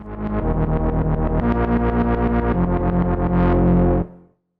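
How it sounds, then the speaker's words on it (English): A DRC two-oscillator synth app on Android plays a preset, a bright buzzy pulsing sequence of rapid repeated notes with stepping pitches for about four seconds, then a quick cutoff, with no voices. "It's a basic 2-oscillator synth that's really easy to grasp."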